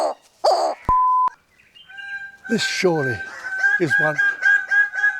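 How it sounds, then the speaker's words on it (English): A bird of paradise calls repeatedly at close range, giving loud, harsh, rooster-like crowing and clucking bursts with a steady tonal whistle running beneath, following a brief spoken phrase and a short beep. "This is a bird of paradise sabotaging multiple takes."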